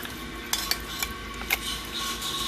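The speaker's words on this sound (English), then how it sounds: "I'll mix it and show you." A spoon mixes black chickpea batter with chopped onion in a bowl, several light clinking taps against the side over a faint wet stirring sound, quiet and close.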